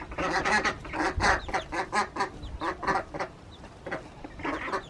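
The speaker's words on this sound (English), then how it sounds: "Hey, ducks!" Farm ducks and fowl calling close by, a loud run of rapid repeated quacks and clucks in uneven bursts, with no talking.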